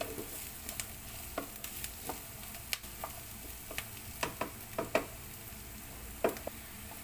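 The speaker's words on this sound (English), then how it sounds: "Now we can put our garlic and just saute about 1 minute." Garlic sautés in a pan for vegetable fried rice. A soft, quiet sizzle runs throughout, with scattered light clicks and scrapes of a utensil stirring.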